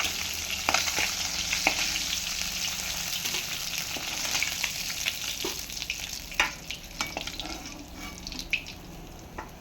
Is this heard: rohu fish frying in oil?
yes